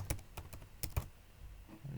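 Keys tapped on a computer keyboard, a handful of quick, close, fairly soft clicks in an uneven rhythm, then quiet, with no one talking.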